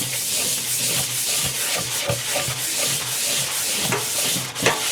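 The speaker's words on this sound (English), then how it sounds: "Give it a scrub with a brush." A brush scrubs a rubber turntable mat with cleaner from a Dual 506 turntable, giving close, continuous rhythmic scratchy strokes that repeat steadily throughout.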